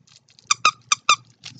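Plush dog toy with a squeaker in the head, five sharp squeaks in a quick uneven rhythm, close and clear with nothing else heard.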